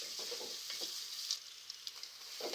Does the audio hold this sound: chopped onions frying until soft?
yes